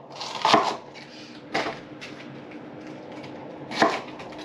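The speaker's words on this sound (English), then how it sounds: "I cut the end, and then my celery is gonna come apart." Kitchen knife chopping through celery stalks for green juice on a board, three crisp separate chops spaced about a second apart, close and clear with quiet pauses between.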